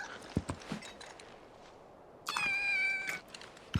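Soft footsteps and faint scuffs lead into a single clear, drawn-out meow from a cat in Final Fantasy VII Rebirth, close by and alone against a quiet background.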